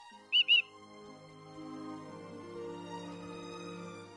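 Two quick bright chirps from a video-game bird named Cheep Cheep ring out near the start, followed by soft sustained musical tones underneath.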